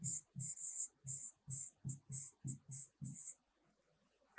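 Writing on paper, a series of about ten short rhythmic scratching strokes close by, then a pause near the end, with no talking.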